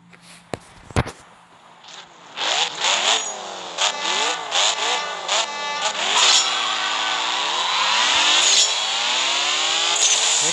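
Race car engine in the mobile drag racing game CSR 2 revs up through successive gear shifts, a rising whine that drops and climbs again, ending in a sustained high-pitched roar; brief clicks come first.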